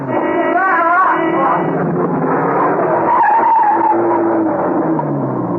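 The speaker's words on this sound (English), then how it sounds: "The van, coming round the corner, skidded as it tried to avoid him." A van skidding on a wet road as it rounds a corner, a loud sustained tire squeal with a strained engine underneath, close and continuous for several seconds.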